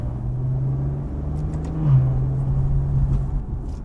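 A 2016 Maserati Ghibli S Q4 engine grumbles low and close from inside the cabin, its steady drone stepping in pitch midway as the gearbox shifts, then settling back to a smooth rumble.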